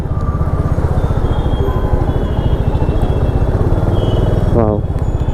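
A 2025 Royal Enfield Hunter 350 motorcycle on a test ride, its single-cylinder engine thumping steadily and loudly close by, with wind rush and a rev change near the end, voices faintly over it.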